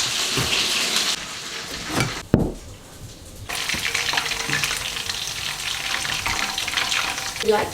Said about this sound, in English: She's deep frying it, so she double fries it.